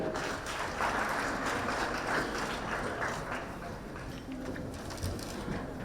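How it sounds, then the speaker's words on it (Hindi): An audience at an inauguration ceremony for a new government office building in New Delhi applauds a book release, a dense, steady wash of many hands clapping throughout. "कृपया तालियों द्वारा स्वागत करें।"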